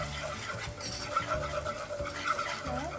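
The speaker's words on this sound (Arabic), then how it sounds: "حركهم مع بعض ليصيروا مثل العجينه" A spoon scrapes and swirls butter, oil and flour together in a pan, working them into a thick roux for béchamel in a rhythmic, close-up stirring sound with a light sizzle and no speech.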